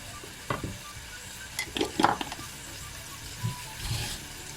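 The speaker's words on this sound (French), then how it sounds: "Et je laisse tout mijoter comme ça à feu doux." Meat simmering in a cocotte over low heat, a faint steady sizzle with a few soft stirring scrapes and light clinks, close and quiet.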